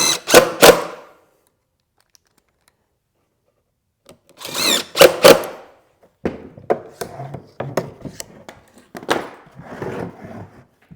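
Power drill driving screws into cedar pickets while a planter box is assembled, heard as two short whirring bursts near the start, a pause, then a louder burst followed by a run of clattering, knocking handling noises.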